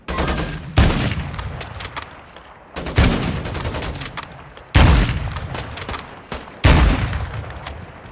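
Sniper rifle shots ring out in a first-person shooter game, four loud sharp cracks spaced about two seconds apart, each followed by a decaying echo and tail.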